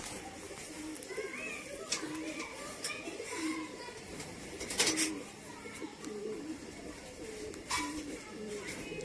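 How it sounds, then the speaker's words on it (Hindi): A pigeon, the aging, slightly paralysed father of a young bird, gives soft repeated coos at a pigeon loft, with other birds chirping and cooing around it against a steady outdoor background. "ये उसी कबूतर का बाप है।"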